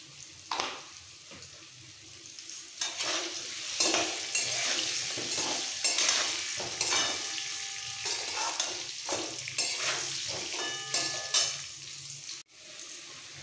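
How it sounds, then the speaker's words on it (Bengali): Potatoes fry in oil with salt and turmeric while a utensil repeatedly scrapes and stirs them, producing a close sizzle broken by uneven clattering strokes, ending with a sharp knock. "এই আলুটা ভাজার সময় সামান্য একটু নুন আর হলুদ দিয়ে ভাজলেই হবে"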